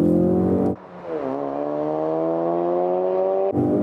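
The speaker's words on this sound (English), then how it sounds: "floor the throttle and drop the clutch, and off you go" A Ford Focus RS with all-wheel drive held at high revs in first gear on launch control. It briefly dips as the clutch drops, then pulls away in a loud, steadily rising engine howl, close and alone.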